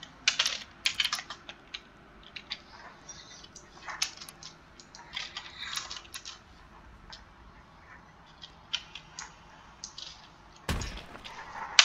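Someone types on a computer keyboard while playing the Roblox game Field Trip Z, with quick irregular clicky keystrokes in bursts, close and fairly quiet, ending in a louder thump.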